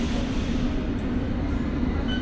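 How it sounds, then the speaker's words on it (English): London Underground Hammersmith and City Line train running between stations, a steady loud low rumble and roar of the carriage with faint high squeal above, no voices. "This is a Hammersmith and City Line train to Hammersmith."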